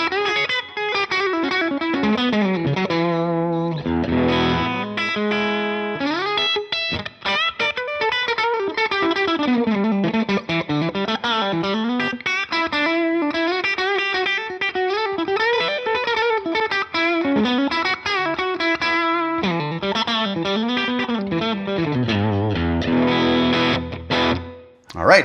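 A sustained electric guitar through a Line 6 Helix plays a continuous melodic line with a rich, effected tone and lingering reverb, steady and loud throughout.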